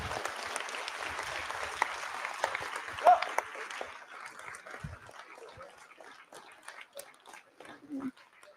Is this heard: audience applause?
yes